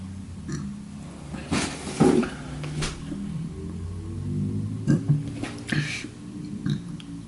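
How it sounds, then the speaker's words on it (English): Several deep, rumbling burps come from someone drinking boba tea with tapioca pearls during a challenge to finish four litres, loud and close, scattered among rustling and breathing sounds. "I hope the pearls are digesting right now because I keep burping."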